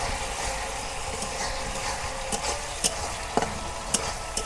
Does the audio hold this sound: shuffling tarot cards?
no